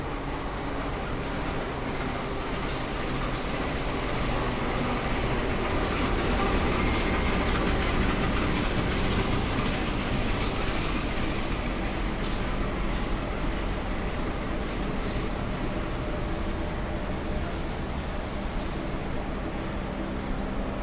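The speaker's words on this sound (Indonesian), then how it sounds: "Yang baru saja masuk di jalur 5 itu adalah kereta api Bangunkarta." The Bangunkarta passenger train pulls into track 5 at a station, a steady low rumble of rolling wagons with scattered metallic clicks and squeals, moderately loud and continuous with no talking.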